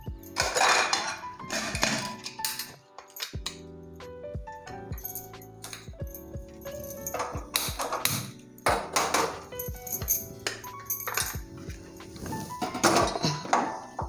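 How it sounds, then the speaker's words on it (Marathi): A container is set inside a pressure cooker and the lid is fitted, producing a busy run of metallic clanks, rattles and ringing clinks close by, with no speech. "याच्यात हा डबा असा ठेवते आधी आणि त्याला झाकण लावते"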